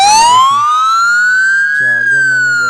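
A phone anti-theft app sounds its alarm after the charger is pulled out, a loud, close electronic siren wailing as its pitch sweeps slowly upward, with other tones layered beneath it.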